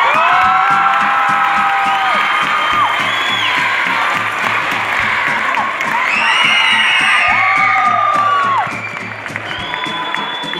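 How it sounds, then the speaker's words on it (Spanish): An outdoor crowd at a Mexico City school arts programme applauds and cheers to welcome an arriving school, with loud continuous clapping, whoops and shrill shouts throughout, easing slightly near the end. "Les pido un fuerte aplauso para recibir a la Escuela"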